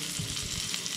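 Chicken of the Woods mushrooms crisping in hot coconut oil give off a steady, close-up sizzle and crackle with a faint stirring undertone, lasting about a second without any voices.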